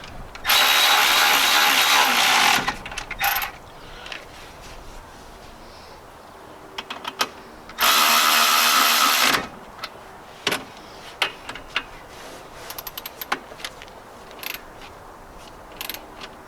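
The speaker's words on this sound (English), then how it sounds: "Now I'll tighten up my caliper bolts." A ratchet tightens the brake caliper bolts on a 2000 Jeep Cherokee, heard as two loud bursts of rapid clicking a few seconds long each, separated and followed by scattered faint taps and clinks in a quiet garage.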